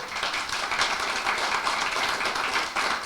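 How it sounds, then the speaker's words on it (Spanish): A church congregation breaks into praise applause, a continuous, bright patter of many hands clapping at a steady level throughout. "¿Puedes darle un aplauso de alabanza a Él?"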